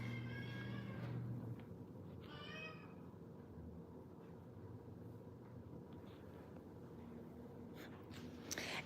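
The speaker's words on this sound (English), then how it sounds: "If you hear a bird, this is just my cat." A pet cat in a home kitchen gives a few short, high, chirping bird-like meows, quiet and somewhat distant over a low steady room hum, with gaps of near silence between calls.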